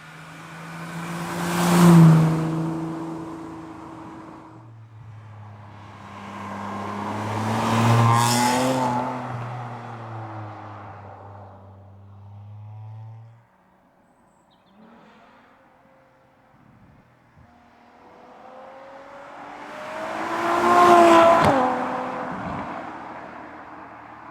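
A Ferrari V12 engine revs hard three times in long rising and falling swells, loud and close, with a deep rumbling idle between bursts and no talking.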